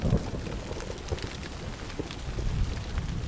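Rain falls steadily in a forest, a dense continuous hiss with scattered drops and low rumbling underneath, even and unbroken throughout.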